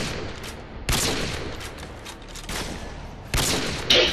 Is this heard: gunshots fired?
yes